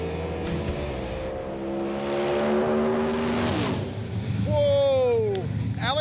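A drag race car launches down a very sticky strip at Rocky Mountain Race Week, its engine climbing in pitch through the run, with other engine sweeps and whoops from a nearby onlooker layered over it.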